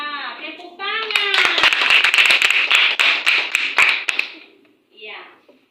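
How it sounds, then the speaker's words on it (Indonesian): Children in a classroom clap together in a short burst of sharp, uneven claps, with a voice speaking before and briefly after. "Iya, tepuk tangan."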